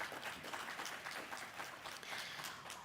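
Audience applause at a sustainability conference, a soft, continuous patter of many hands clapping from a distance, fairly faint and even throughout.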